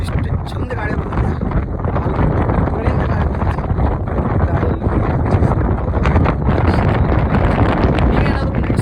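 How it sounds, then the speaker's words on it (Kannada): Strong, steady wind sweeps across the hilltop at Kyatanamakki, buffeting the microphone with a continuous loud, rumbling roar and gusty surges throughout. "ಇಷ್ಟು ಚಂದ ಗಾಳಿ ಬರ್ತದೆ."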